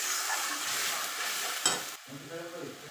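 Ginger, cumin, coriander and dried leaves fry in oil with a dry red chilli and bay leaf, giving a close, hissing sizzle and stirring that fade abruptly after two seconds to quieter, faint tonal sounds.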